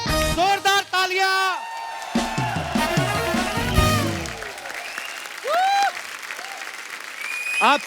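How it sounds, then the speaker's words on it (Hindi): Studio audience applause and cheering on a TV comedy talk show as guests are welcomed, loud clapping with whoops mixed with a host's voice and music, swelling and fading in bursts. "जोरदार तालियां।"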